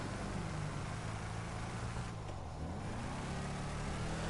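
The Vapid Ellie muscle car in Grand Theft Auto 5 holds a steady, loud, rumbling engine drone throughout, with a brief dip in the note midway before it settles back to a constant roar, no talking over it.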